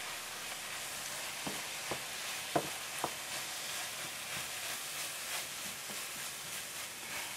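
Flour stirred into a pan mixture as a thickening agent for an asparagus casserole: a steady soft sizzle and scraping hiss runs throughout, with a few brief utensil taps near the middle and no talking.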